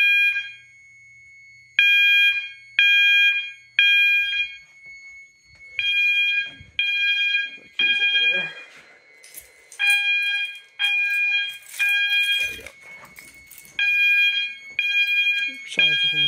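A System Sensor fire alarm sounds during a system test, repeating loud tonal horn blasts in a steady on-off pattern with a chirpy sounder, briefly interrupted by clattering noise mid-sequence.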